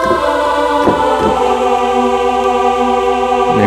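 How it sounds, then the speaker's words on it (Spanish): Korg N364 keyboard patch played alone, a bright sustained tone held steadily with a few note changes early on and a fresh attack at the end, loud and close. "del N364, suena así."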